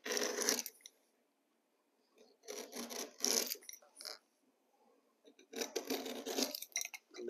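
Carpet is cut for stairs with a blade in short rasping bursts, three separate cutting strokes separated by quiet gaps, close and fairly faint.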